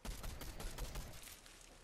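Rapid bursts of gunfire in Fortnite Reload, a dense fusillade of overlapping shots at steady loudness before tailing off slightly.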